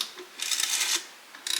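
A socket ratchet turns a neglected EJ207 engine over by hand: two short bursts of rapid, close clicking pawl ticks separated by a quiet gap.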